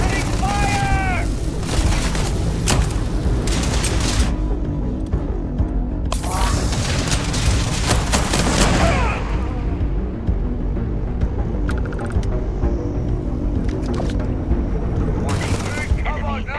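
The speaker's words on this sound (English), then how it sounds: "Lock and load! Opening fire!" Gunfire in the Starfield video game, dense bursts and booming blasts running steadily throughout at loud level, mixed with other game effects and layered under a voice.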